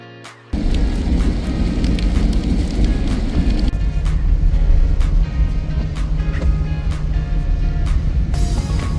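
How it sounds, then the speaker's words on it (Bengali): Steady heavy rain roars continuously outside at an airport in Cox's Bazar, a dense broadband wash with low rumble underneath, loud and close throughout after a brief quieter start. "আমরা এয়ারপোর্টে এসে পড়েছি আর বাইরে অনেক বৃষ্টি।"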